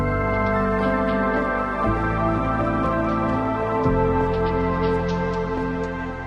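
The louder section of a Minecraft Bedrock soundtrack song plays as sustained, layered tonal music with shifting low notes and soft percussive accents, steady in level throughout.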